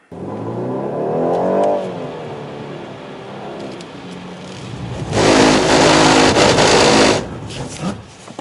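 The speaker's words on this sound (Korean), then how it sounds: "자, 가속 시원하게 60까지 해주시고, 원더 스티어 실컷 체험해보세요" A BMW accelerates hard to 60 on a driving-centre track, its engine rising in a loud climbing whine, then a dense roaring rush of engine and road noise for a couple of seconds before it eases off, with no talk.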